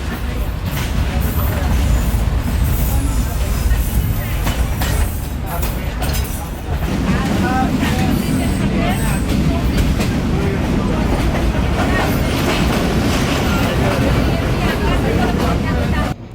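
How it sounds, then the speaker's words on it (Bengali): Ramna local passenger train running beside a road in northern Bangladesh, a steady loud rumble of wheels and carriage throughout, with a shift in tone partway through and no talk over it. "আমাদের ট্রেন চলছে"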